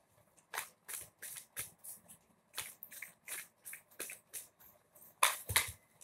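Tarot cards are shuffled and laid down in a series of quick, close papery flicks and slaps with short gaps between them, ending in a louder double snap; no speech.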